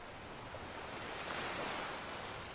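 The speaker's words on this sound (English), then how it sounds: "the waves are crashing pretty hard into this place" Waves crashing hard against the shore in the video game Skyrim, a steady broadband roar of surf with no breaks, moderately loud and unaccompanied.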